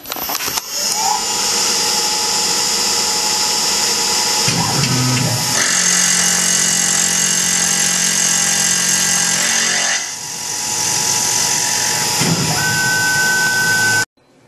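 A Tormach PCNC 1100 CNC milling machine running, a loud, steady mechanical whine with shifting tones as it cuts, a brief change in pitch partway through, and a sudden stop at the end.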